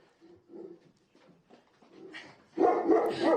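Dogs bark and whimper in a kennel room of an animal shelter, with sparse yelps early on that grow into a louder, denser burst of barking near the end, heard fairly close.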